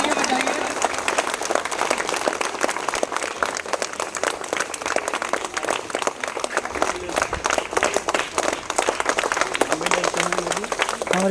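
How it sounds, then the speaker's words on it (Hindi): Students clap steadily at a school honours ceremony, a dense, continuous patter of many hands lasting over ten seconds, with voices speaking intermittently beneath it. "तालियां बजाइए।"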